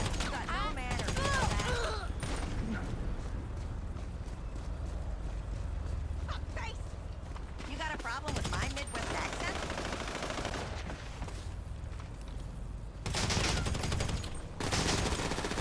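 Rapid bursts of automatic gunfire in Grand Theft Auto Online, repeated rattling volleys separated by short pauses, with someone talking over the shooting at times.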